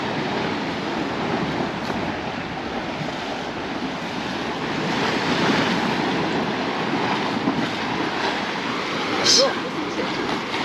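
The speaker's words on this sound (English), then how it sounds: "sea is a little bit choppy today" Choppy sea waves splash against the shore at San Agustin, Mallorca, a continuous broadband wash of surf with swelling surges and a sharper splash near the end, mixed with wind noise.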